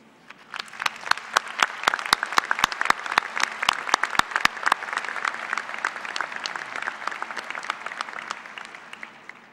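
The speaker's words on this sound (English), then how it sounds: "Will you join me in a round of applause to thank them?" An audience at a K-State Human Ecology commencement breaks into applause, dense clapping that builds quickly, holds steady for several seconds, then tapers off toward the end.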